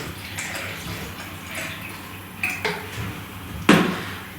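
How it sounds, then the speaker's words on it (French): Vegetable broth is poured into a measuring cup in a kitchen, making a soft, low liquid sound. A few sharp clinks of glass or utensils ring out, the loudest near the end. "On va prendre 150 ml de bouillon de légumes."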